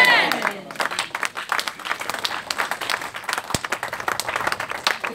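A congregation at an all-night prophetic prayer service claps in a sustained, busy stream of close handclaps. Voices are mixed in throughout and one sharp louder slap stands out near the middle.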